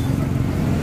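Motorcycle engine running close by, a steady loud mid-pitched drone over a brief moment, with no clear rise in pitch.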